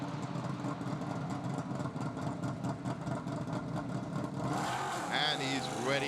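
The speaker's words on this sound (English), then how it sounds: "The engine starts." Race car engine firing up during a pit stop at a Sepang Asian Le Mans Sprint Cup race, a loud mechanical roar rising out of steady background engine noise while a commentator talks over it.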